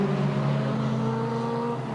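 Race cars, a Sanyo Nissan 1600 and an Escort Twin Cam, contest a 1984 Shellsport event at Pukekohe, their engines holding a steady, loud drone close by for two seconds with no talk.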